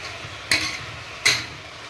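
Vegetables and green peas being sautéed in ghee in a pan for vegetable biryani, with two sharp spatula scrapes against the pan over a faint low background.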